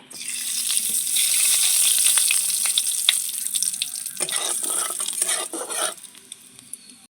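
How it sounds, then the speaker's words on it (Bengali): Nigella seeds hit hot mustard-style fish-frying oil and crackle in a loud, bright sizzle that slowly settles, with stirring and a few clinks of a utensil on the pan near the end. "মাছ ভাজার তেলের মধ্যে দিয়ে দিচ্ছি কালো জিরে"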